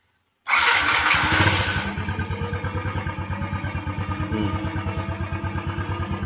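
An LC135 motorcycle engine cranks and fires up abruptly, roaring briefly before settling into a steady, rhythmic chugging idle close by.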